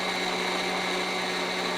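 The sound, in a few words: blender pureeing asparagus cream soup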